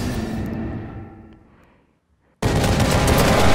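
Gunfire in The Evil Within, a loud rattling burst that fades out into near silence, then an abrupt dense barrage of shots resuming at full volume.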